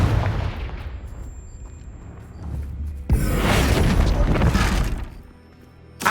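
Hogwarts Legacy spell explosions from Bombarda and Confringo: a rumbling low blast fades over three seconds, then a second, louder crashing burst with shattering debris that sustains for about two seconds before dying away, with no talking.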